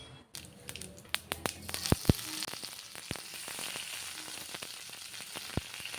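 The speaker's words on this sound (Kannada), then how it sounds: "ಅದನ್ನ ಒಂದು ಸ್ವಲ್ಪ ಹೊತ್ತು ಫ್ರೈ ಮಾಡಿ, ಆಮೇಲೆ ಒಂದು ಸ್ವಲ್ಪ ಕರಿಬೇವು ಹಾಕ್ಕೊಳ್ಳೋಣ" Cashews and curry leaves fry in hot oil for vermicelli upma, giving a steady close sizzle broken by sharp pops and crackles.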